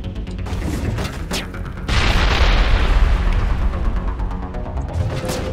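A grenade blast in the video game Mass Effect, a loud booming burst that swells into a sustained rumbling roar over steady combat noise.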